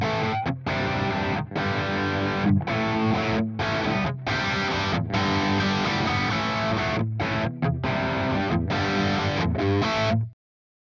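Heavily distorted electric guitar through a simulated amp cabinet and microphone chugs out a chunky rhythm riff, palm-muted bursts broken by short stops, loud and upfront before cutting off at the end.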